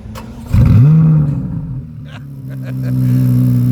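A 2023 Chevrolet Corvette Z06 engine roars up sharply in a loud rev, then settles into a steady low rumble that builds again, close by near the exhaust.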